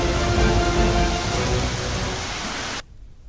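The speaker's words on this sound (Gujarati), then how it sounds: "पवन साथे झरमर वरसाद वरस्यो" Rain falls with wind in Narmada district, Gujarat, as a steady broadband hiss and patter that stops abruptly near the end.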